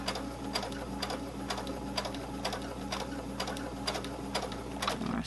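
Sewing machine stitching fabric with a rapid, even mechanical chatter over a low steady hum, close up and continuous throughout.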